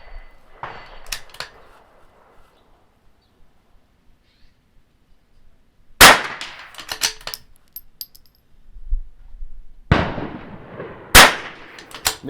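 Sharp .22 rifle shots ring out at an NRL22 match stage on steel targets, a few quiet ticks early then distinct loud cracks near six, ten and eleven seconds with brief ringing tails, no speech.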